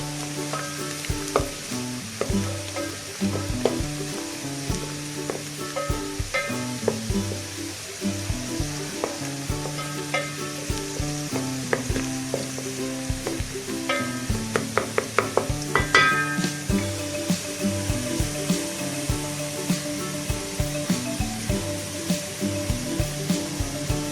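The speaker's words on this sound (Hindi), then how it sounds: "ये प्याज हल्का हल्का ब्राउन होना शुरू हो गया।" Onions frying for degi pulao, a steady loud sizzle in a pot running throughout, with occasional clinks and stirring scrapes and a tonal hum underneath.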